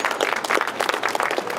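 Protesting electricians clap in the street during a demonstration, a brief burst of scattered, uneven handclaps at moderate distance.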